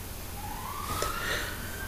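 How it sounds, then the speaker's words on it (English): Out in a big city, a distant ambulance siren slowly rises and wails, faint beneath the steady hum of traffic and room noise, with no voices. "Sorry about the ambulance, if you can hear it."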